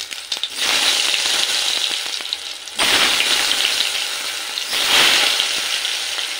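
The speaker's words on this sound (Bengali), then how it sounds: "প্রথমে মাছ ভাজার পর আমি আলুটা ভেজে নিই" Quartered medium potato pieces fry in oil just used for fish, giving a loud, continuous sizzle in three surging waves, each dropping briefly as the pieces are stirred or turned.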